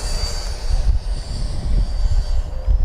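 An FMS Viper 70mm V2 radio-control model jet with an electric ducted fan flies past, its steady whooshing roar rising and falling in loudness as it passes, outdoors with no talk.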